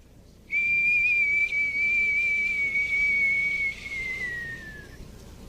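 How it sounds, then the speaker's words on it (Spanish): A gentle, sustained whistle tone holds steady for several seconds after a sudden onset, then slides slightly lower and fades near the end, heard alone. "un silbo apacible"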